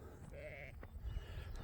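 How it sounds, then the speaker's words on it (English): Sheep bleat from a farm pen, a couple of wavering, nasal calls close by over low rumbling background noise. "There's the two sheep"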